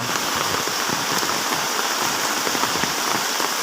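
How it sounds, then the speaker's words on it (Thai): Heavy rain pouring down steadily, a dense, loud hiss of drops hitting surfaces with no pauses. "ฝนตกหนักมากเลยครับ"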